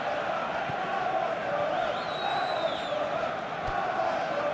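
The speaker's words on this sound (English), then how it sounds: "the crowd clearly like what they just saw" A stadium crowd cheers at a simulated Arsenal vs Fulham Premier League match in PES 2021, a broad, steady roar that carries through the whole stretch, with a few faint whistles rising above it.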